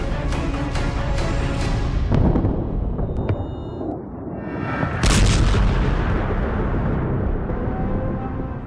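Artillery fire and explosions in Israel–Iran war footage: loud, dense rumbling booms fill the stretch, with a sharp heavy blast about midway followed by sustained roar and debris noise; no voices.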